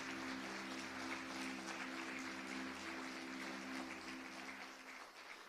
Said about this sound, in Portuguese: Você consegue aplaudir ao Senhor pela sua palavra?